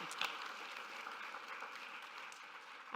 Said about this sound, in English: So a huge round of applause, please